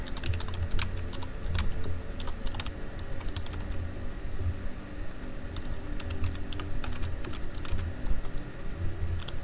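Fast, steady clatter of keys on a computer keyboard, with light tapping and occasional louder strokes close to the microphone, continuing without pause and with no voice.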